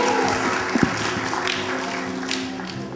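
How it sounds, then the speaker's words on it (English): Sustained audience applause at an award show, a dense, steady wash of clapping from a crowd in a hall, loud and continuous for the whole stretch with no talk over it. "Let's give them another round of applause"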